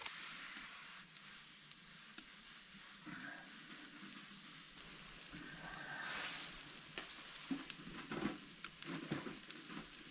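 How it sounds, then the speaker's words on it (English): Onions sautéing in a pan inside a hot tent in deep snow, a faint steady sizzle and crackle with light stirring scrapes, quiet and close. "we might be going from onion gravy to just sauteed onions"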